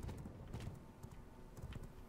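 A horse clip-clops in a quick, even trot in V Rising, the hoofbeats soft and close, with no talk over them.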